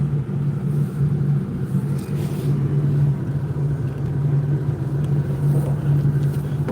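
A truck rolls across a yard, its engine a steady low rumble with a faint hum that holds level and unbroken throughout, with no voices.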